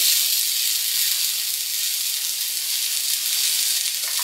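Spring onions hitting a hot frying pan, a loud, steady, close sizzling hiss that runs unbroken for the whole stretch, without any talking.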